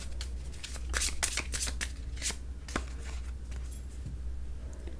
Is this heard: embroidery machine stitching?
no